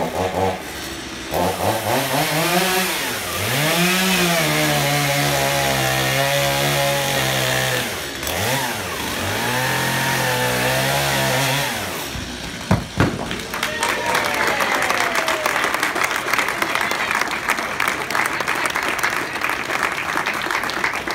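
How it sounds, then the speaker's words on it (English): Chainsaw cutting through timber at a ceremonial opening event, the engine revving loud and steady after a stretch of crowd noise and talk, running continuously to the end. "we've got the ceremonial timber cutting"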